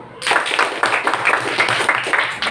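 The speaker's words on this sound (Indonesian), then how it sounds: "Kita berikan tepuk tangan untuk kelompok 1." A classroom of students bursts into dense, fairly loud clapping for a presenting group, lasting about two seconds before tapering off.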